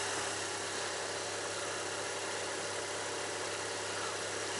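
A Mazda RX-8 rotary engine idles at a steady, even hum with a low droning undertone, close and continuous, with no talking over it.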